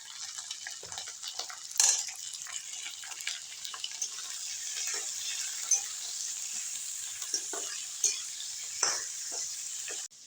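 Raw chicken goes into onions frying in a pressure cooker, a steady close sizzle with a few sharp clatters and stirring scrapes.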